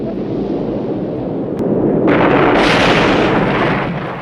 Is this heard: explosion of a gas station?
yes